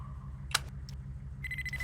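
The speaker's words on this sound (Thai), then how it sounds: "ติดตั้งระเบิดเวลาเรียบร้อย" A time bomb in a video game ticks in a soft, steady rhythm, with a short chime and a sustained electronic tone joining near the end, quiet and alone.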